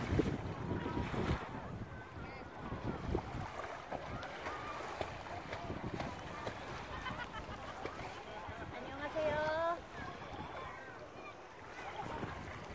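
Steady wind buffets the microphone outdoors by the sea, with waves in the background and people talking intermittently.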